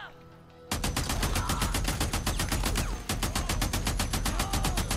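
An MG machine gun fires continuously in a video game, a loud, rapid, evenly spaced stream of shots that starts abruptly, stutters briefly near the middle and then keeps going, close up with no talk over it.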